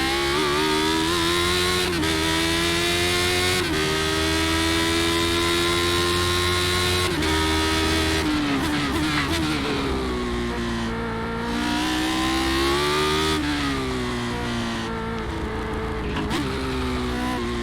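A Lotus 79 Formula One car in a racing video game, its engine howling loud and constant, pitch rising through the gears and dipping sharply on downshifts and lifts, unbroken for the whole stretch.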